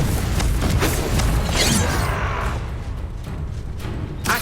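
A Confringo blasting spell explosion in the video game Hogwarts Legacy: a loud, rumbling boom with crackling debris that slowly fades over a few seconds.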